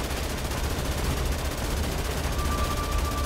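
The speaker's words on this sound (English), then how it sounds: "They want me to shoot this tank." Sustained automatic gunfire aimed at an armored XM3 prototype tank in Dead Rising Deluxe Remaster, a dense, steady stream of rapid shots with no pause, loud and close.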